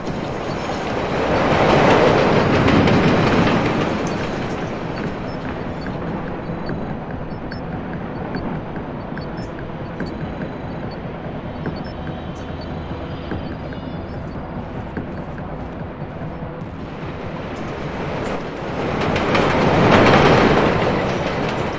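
A train runs in the stealth video game Splinter Cell: Blacklist, a continuous rumbling rail roll with faint clickety-clack that swells louder at the start and again near the end, no voices.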